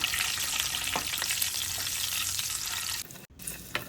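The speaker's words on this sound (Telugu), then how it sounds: "ఇందాక పీల్ చేసుకున్న ఎగ్స్ని దీంట్లో వేసుకొని ఫ్రై చేసుకుందాం." Peeled boiled eggs fry in hot oil, producing a loud, dense, continuous sizzle up close that breaks off sharply near the end, followed by quieter pan noise.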